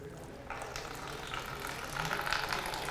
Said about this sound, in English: We're going to see what happens when I pour some rain on my lawn.